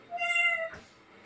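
A cat gives a single clear, close meow lasting over half a second, followed by a soft breathy trailing sound, with no talk over it.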